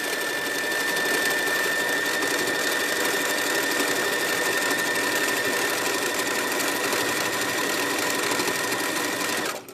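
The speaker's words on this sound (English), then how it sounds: "So we stitch up and down in one spot just to anchor those threads" Sewing machine running steadily for free-motion stitching, needle rapidly going up and down in one spot to anchor threads; a continuous close, even mechanical whir that stops abruptly at the end.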